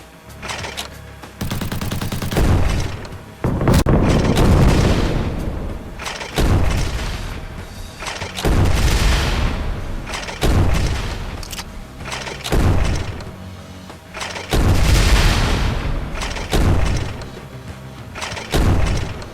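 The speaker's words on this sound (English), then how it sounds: "I really do love this cannon." A heavy cannon fires repeatedly in a shooter video game, sending out loud booming blasts roughly every two to three seconds, each followed by a rumbling tail, with no voices.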